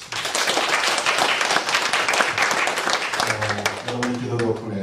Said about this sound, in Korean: 우리 한번 박수 한번 하십시오